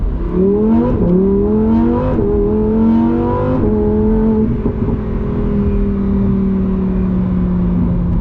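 A 2025 Lamborghini Huracan Tecnica's V10 engine accelerates hard, its loud, rising howl climbing through quick gear changes before settling into a sustained high drone, heard close from inside the car.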